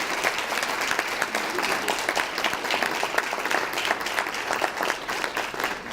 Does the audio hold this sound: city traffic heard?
no